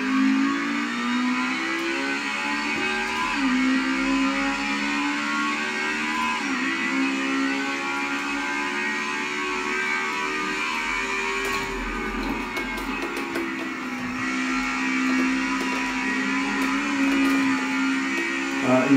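Racing car engine in a VR driving game, a steady mid-pitched drone with shifting harmonics as it revs and changes gear, continuous and fairly loud throughout with no talk.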